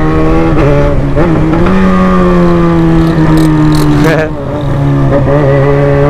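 A loud motorcycle engine revs and roars close by, pitch climbing and falling in repeated throttle bursts.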